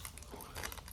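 Peppermint sugar-free chewing gum, small blue candy-coated pieces from Lithuanian military rations, chewed close up with soft, continuous moist crunching and smacking for about a second, no talking.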